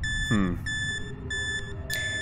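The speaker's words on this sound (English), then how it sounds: "The beeping is kind of distracting." Steady electronic beeping from a detector in a vampire-hunting video game, a sustained high tone cutting on and off in short repeated bursts, with a brief rising chirp early on.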